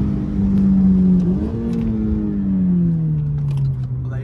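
A Toyota GT86 with a 200 hp rear-wheel-drive engine revs loudly and steadily, its pitch dipping, then climbing as it loads up, and finally sagging again, sustained and close throughout.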